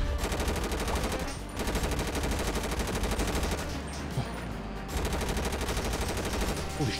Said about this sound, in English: Oh, I'm being shot at.